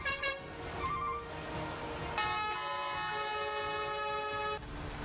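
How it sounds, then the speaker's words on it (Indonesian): Angry truck drivers blowing their horns together in protest in front of a mayor's office, with several overlapping horn blasts, one long sustained honk dominating the middle, over street noise. "para sopir truk yang kesal juga serentak membunyikan klakson di depan kantor Wali"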